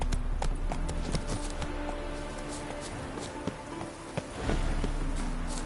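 Geralt's horse Roach in The Witcher 3: Hearts of Stone, hooves clip-clopping in a steady rhythm at close range over game ambience, the pace easing partway through.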